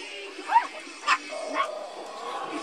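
Dogs at a breeding kennel give a few faint, scattered yips and barks with soft whimpering between them, while people talk quietly nearby.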